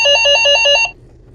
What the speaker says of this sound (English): he was awakened by the intercom ringing